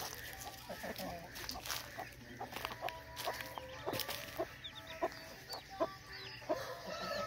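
Chickens on a farm cluck and chatter continuously, with several birds making short overlapping calls at moderate distance against faint background noise.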